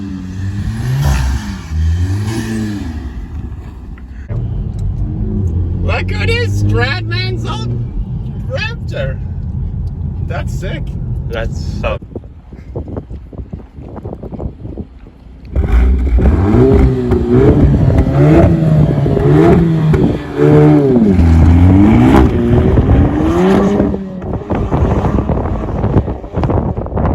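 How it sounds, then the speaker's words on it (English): A VW Golf R with a new Borla cat-back exhaust revs loudly outdoors in an Idaho winter, engine surges rising and falling in bursts, with wind noise and people talking over much of it. "video of the new Borla catback exhaust"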